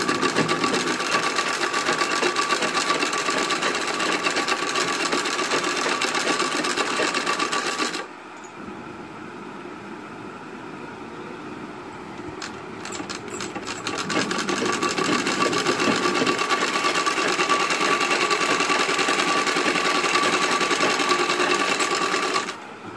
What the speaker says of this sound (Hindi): डोरी आपको जितनी पतली या मोटी रखनी हो उस हिसाब से सिलाई चलाएं